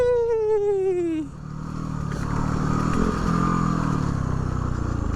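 A Yamaha WR250R dirt bike revs high in a falling whine, then cuts to a rough, sputtering churn as it bogs down in a mud hole, close and loud.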